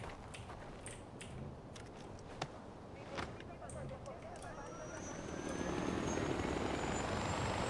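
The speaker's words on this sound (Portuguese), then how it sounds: "Olha, o helicóptero fica bem rápido" A video game helicopter's rotor and engine drone steadily in Far Cry 4, growing louder and fuller toward the end, with a few sharp clicks and thumps scattered over it.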